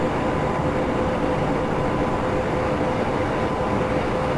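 An oncoming train in the Train Simulator 2015 game, on the Hannover-Uelzen line, gives a steady, loud, continuous rumble and roar with a faint tonal hum running through it, with no voices over it.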